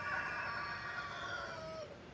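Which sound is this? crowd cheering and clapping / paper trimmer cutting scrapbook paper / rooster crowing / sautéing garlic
rooster crowing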